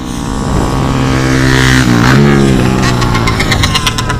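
Fast cars and motorbikes pass in busy traffic at sunset, engines loud and close, with a rising and falling whoosh as one vehicle goes by and a revving engine note toward the end.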